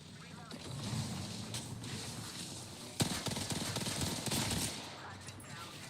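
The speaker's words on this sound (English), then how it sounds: "Taking fire. Shield cracked. I'm under fire." Rapid gunfire in the Apex Legends video game: dense, continuous bursts of automatic shots with a sharper volley partway through, mixed with in-game action noise.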